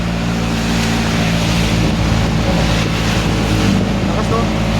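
Heavy rain pours down on a road outdoors as a loud, steady, hissing roar that fills the whole moment, with voices faintly under it.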